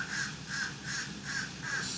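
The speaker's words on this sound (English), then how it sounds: "I don't know if you hear those birds in the background." Birds call outside by a resort deck, a crow-like caw repeating five times in an even rhythm, moderately close and fairly faint, with no talking.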